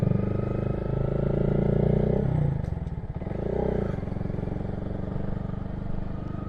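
A 2022 Honda Grom motorcycle engine hums steadily at close range, its note dipping and rising as the rider shifts up into third gear, then settling into a continuous drone.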